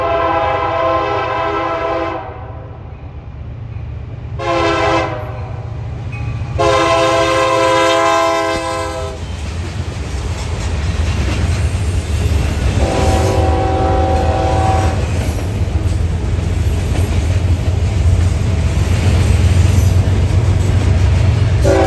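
Loud horn blasts from a rare passing train, several long sustained blows followed by a later shorter one, over the heavy rumble and clatter of the rail cars going by close at hand.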